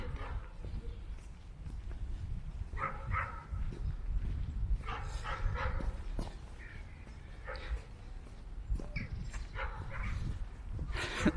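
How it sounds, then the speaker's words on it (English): A dog barks repeatedly in bursts at moderate distance while walking through Richmond Park near Kingston Gate, London, over steady outdoor background noise and footsteps. "That dog is very, very chatty."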